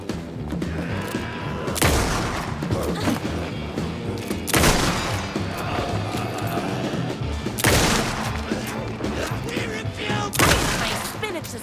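Gunfire in the video game Alan Wake 2: several heavy booming shots ring out amid a dense, loud game soundscape, spaced a few seconds apart.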